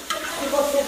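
Six cloves of finely chopped garlic frying on a plow-disc griddle for arroz carreteiro, loud close sizzling with a quick stirring scrape and a brief ringing scrape of metal on the disc.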